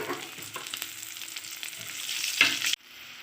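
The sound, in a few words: chopped onions frying in a pan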